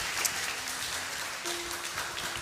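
Congregation clapping at a midweek church prayer meeting, a steady wash of applause lasting the whole moment at moderate level with no talk over it.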